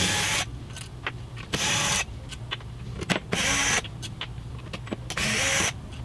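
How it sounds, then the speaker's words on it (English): A power tool removes bolts from the crankcase of a Husqvarna 55 chainsaw during teardown, with four loud, close, roughly one-second bursts of whirring rattle separated by quieter gaps of handling noise. "We'll go ahead and start removing the bolts."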